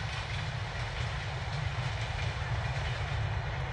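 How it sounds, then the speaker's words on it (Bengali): A train rolls past alongside a flowering mustard field, a continuous low rumble of cars and wheels close by, loud and steady from start to finish. "দেখেন পাশ দিয়ে ট্রেন যাচ্ছে।"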